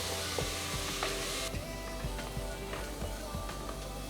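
Chopped onions with curry leaves and salt sautéing over a high flame in a pan for mutton masala, a steady soft sizzle and crackle with faint stirring scrapes, close and continuous with no talk.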